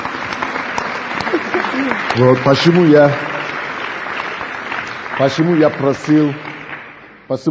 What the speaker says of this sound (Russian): Дайте Богу аплодисменты